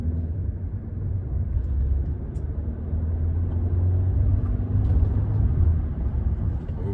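Kia Niro 1.6 hybrid car, a 183 hp Premium model, accelerating on the road: a steady low, muffled cabin rumble with road and engine drone, fairly loud and continuous throughout, with no talking.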